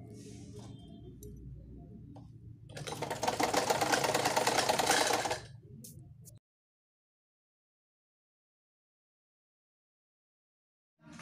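Sewing machine stitching lace onto a dupatta, one steady buzzing run of a few seconds amid quieter handling noise, then silence.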